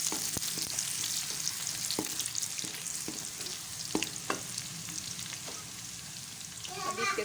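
Onion and finely chopped garlic fry in a pan with a steady crackling sizzle, broken by scattered sharp clicks of stirring, close up and with no voices.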